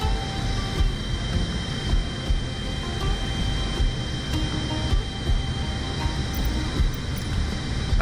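A jumbo jet in Microsoft Flight Simulator roars past in a flyby, a broad, steady engine rumble with a faint whine that holds loud and constant throughout.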